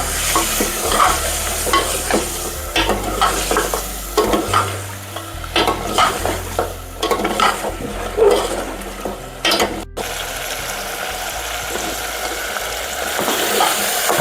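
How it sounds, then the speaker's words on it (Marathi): Boiled mutton is stirred into a thick cooked masala in a pan, giving repeated scraping, clattering spoon strokes over a steady frying sizzle, close and loud, with no voices. "आता आपण याच्यामध्ये आपलं उकडलेलं मटण टाकून देऊ हलवून घ्यायला चांगलं"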